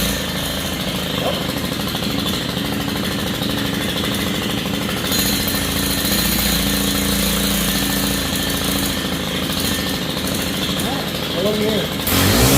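Stihl string trimmer engine running after a clutch replacement, a continuous loud buzzing drone near the listener that steps up in intensity partway through and stays steady throughout.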